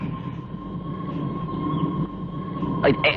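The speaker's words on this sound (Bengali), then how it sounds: "ট্রেন চলতে শুরু করেছে" A train starting to move rumbles low and steady with a faint hum, then a short metallic squeal rises near the end.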